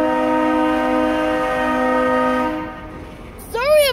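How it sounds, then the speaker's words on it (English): A train horn blares with a steady, loud, sustained chord for about two and a half seconds, then fades, followed by a brief high sweeping tone near the end. "horns loud!"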